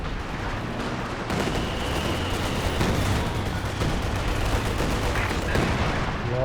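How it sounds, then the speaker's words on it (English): Artillery barrages in Company of Heroes 2 battle, a continuous din of booming shell impacts and gunfire, loud and dense throughout. "A lot of arty flying around."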